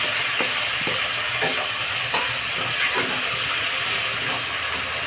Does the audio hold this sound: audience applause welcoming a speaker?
no